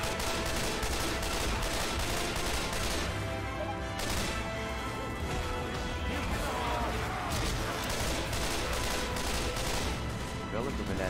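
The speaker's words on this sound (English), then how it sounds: "Deploying frag rounds!" Frag rounds fired in a video game, dense rapid gunfire bursts and explosive crashes in a loud continuous barrage, with voices shouting underneath.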